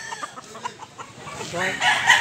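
Roosters for sale at a market in Consolacion, northern Cebu, give close, loud clucks and crowing that rise toward the end, with little talk.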